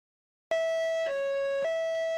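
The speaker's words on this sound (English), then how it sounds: "if you press shift while doing it, you'll get a high-low siren." A video game vehicle siren sounds a high-low pattern, starting abruptly after a short silence and switching between two steady tones, loud and close, with no voices.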